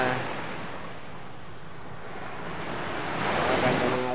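Steady roar of ocean surf washing onto a beach, with wind buffeting the microphone and a wave swelling louder near the end.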